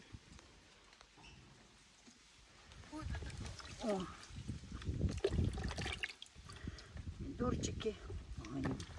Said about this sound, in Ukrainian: Так що зараз перемиваю помідори.